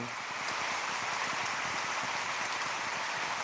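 Steady rain falls as a dense, even hiss on a surface at home, constant and unbroken for the whole stretch with no voices.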